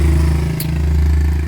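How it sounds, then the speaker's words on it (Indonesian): A motorcycle passing outside, its engine a loud, steady low drone that fills the whole moment, with a brief higher rattle midway and no talk over it. "Bentar, ada motor."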